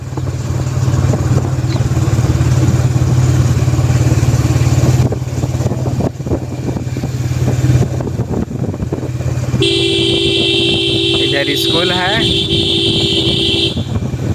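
A loud, sustained vehicle horn blares for several seconds over steady road and engine noise, with a person speaking briefly.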